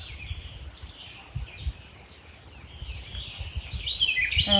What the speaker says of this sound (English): And tune into the bird song